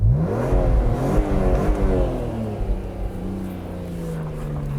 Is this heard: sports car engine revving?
yes